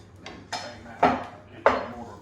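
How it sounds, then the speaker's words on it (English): A pestle strikes toasted grated coconut in a mortar four times, each blow a sharp thud with a hollow ring, spaced unevenly and growing heavier, close and alone in a quiet kitchen. "Then just give it a good old bash until it smooths out"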